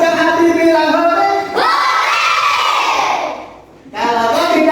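A class of children shouts a long, drawn-out group cheer of hooray during an action song, loud and close, with sung lines before and after the shout.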